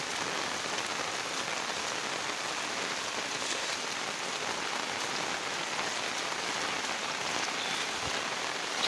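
Steady rain pouring down and pattering on surfaces in Bhutan, an even, unbroken hiss that holds for several seconds with no voices.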